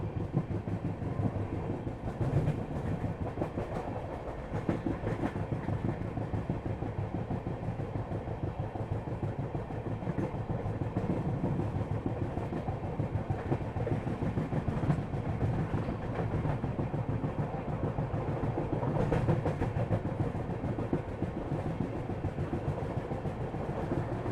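The Sairang Rajdhani Express 20508 runs on the rails, heard from inside as a steady rumbling roll with faint rhythmic clatter throughout and no talk.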